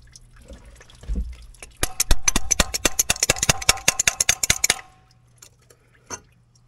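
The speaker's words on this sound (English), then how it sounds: "Right in the drain pan. Perfect. Still just dumping fuel." Diesel fuel from an old Allis Chalmers track loader with a Detroit engine drips and splashes rapidly into a drain pan, a dense close run of patters lasting a few seconds before stopping, with a faint hum underneath.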